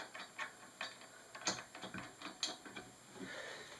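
Parts of a Fine Line Automation FLA-100 machine being hand-tightened, giving soft, close ratcheting clicks and small mechanical taps in an irregular rhythm, quiet and with no voices.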